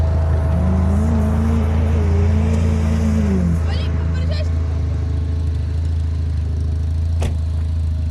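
A car engine drones steadily while driving, with a loud low rumble throughout and a tone that climbs and settles as the car accelerates. Someone speaks briefly over it.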